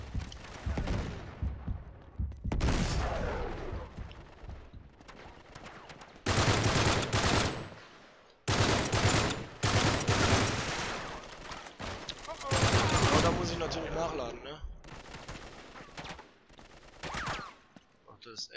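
Bursts of automatic machine-gun fire from the PS4 video game Uncharted 3 come in dense, loud volleys separated by brief gaps, with someone talking over and between the shooting.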